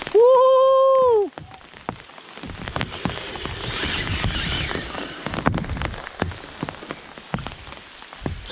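Rain falls in the woods of a valley near Novato, a dense, steady patter with scattered drips. It follows a brief, loud, tonal whooping voice at the start.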